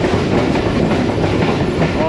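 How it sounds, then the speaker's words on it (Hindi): The Subak Raftar passenger train rolls into Shahdara Bagh junction near Lahore, a loud, close, continuous rumble of wheels and carriages with steady clatter heard from inside an AC standard coach. "ट्रेन हमारी इस वक्त शादराबाग जंक्शन में एंटर"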